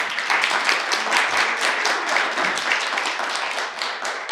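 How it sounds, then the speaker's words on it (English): An audience gives a round of applause at the close of a talk about music, entertainment and the family business, dense steady clapping that carries on for several seconds without voices. "let's give them a round of applause"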